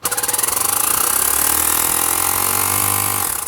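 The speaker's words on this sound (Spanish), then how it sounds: "Fijaros que suena como si fuese una moto, O sea, es increíble la potencia que tiene este inflador." A Xiaomi Pump 2 Pro portable electric tire inflator runs loudly with a rapid pulsing chug like a motorbike, then winds down and stops at the end.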